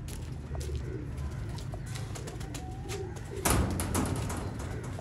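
Golden Kamagar pigeons coo softly among other birds, low murmuring calls under a steady background hum, with a louder flurry near the end that may be wing flaps.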